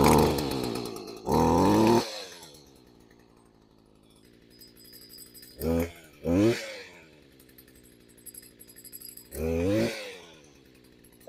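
A small two-stroke engine with a purge bulb sputters into life after the choke is turned off, running in several loud, revving bursts that drop back to a rough idle between them.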